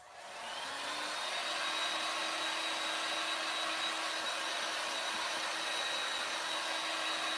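A hair dryer runs steadily for the whole stretch, a loud, even whoosh with a faint whine, drying a craft transfer indoors. No one speaks.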